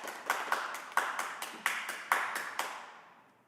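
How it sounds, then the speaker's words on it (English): A small scattering of claps from a city council meeting audience, about eight sharp hand claps at uneven intervals, echoing in a large room and fading away at the end. "we ask that folks please hold their applause"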